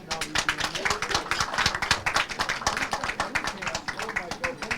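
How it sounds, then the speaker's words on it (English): Audience clapping at a book launch at the House of Lords, a steady run of sharp, fairly close claps with uneven rhythm lasting several seconds, with voices mixed in beneath. "Clap, clap. Now we do."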